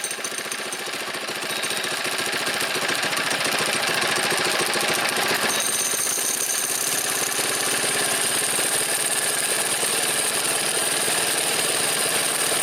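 A Predator small engine on an old go-kart runs with the choke on, a loud, rough, rapid knocking chug that starts up after a quieter second and keeps going steadily, shifting slightly midway, with no talk.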